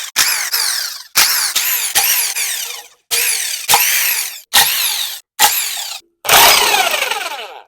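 A power tool whirs in repeated loud bursts with brief pauses between them, each rising and falling in pitch, while removing the timing cover bolts on a Ford SVT Cobra 4.6 DOHC V8 engine.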